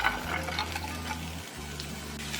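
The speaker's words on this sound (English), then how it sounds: "in a large pan that I've got on medium heat, I'm gonna add in my mushrooms and onions" Mushrooms and onions sizzle and fry on medium heat in a large nonstick pan, a soft steady crackle with faint hiss, close and continuous.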